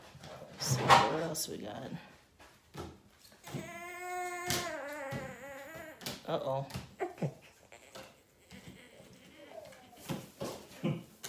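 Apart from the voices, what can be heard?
dogs whining behind a door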